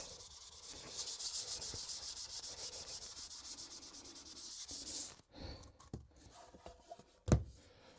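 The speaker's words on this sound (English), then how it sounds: "There's a light sand." Light hand sanding over filler and wooden plugs on a wooden kitchen cabinet before spraying: steady close rubbing for about five seconds, then stops, followed by a few soft knocks and handling sounds.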